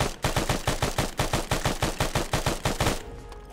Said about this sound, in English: I'm putting rounds into the tree line.